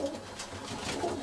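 Soft, low coos from Tippler pigeons in a short burst, fairly faint and nearby, with no talking.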